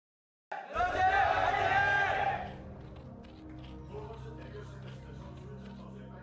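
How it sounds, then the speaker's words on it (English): A packed studio audience at a StarCraft esports match erupts in loud cheering and whooping, peaking for about two seconds before settling into a lower murmuring crowd noise. "Big cheers on both sides."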